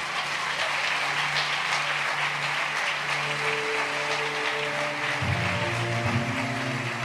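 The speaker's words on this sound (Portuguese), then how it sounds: "Pode aplaudir Jesus, porque eu não quero mesmo." A church congregation applauds during a sermon by a woman pastor, a steady wash of clapping throughout with a low hum or tonal sound entering near the end.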